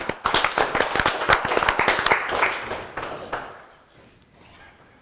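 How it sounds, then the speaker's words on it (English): A small group of people clap together for a few seconds, close and lively, then the claps thin out and fade to quiet. "Human energy clapping is actually good."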